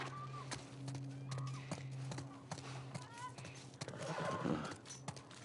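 A horse in The Last of Us Part I snorts and whinnies amid clip-clopping hooves, fairly close, with game dialogue and music underneath and a short burst of movement near the end.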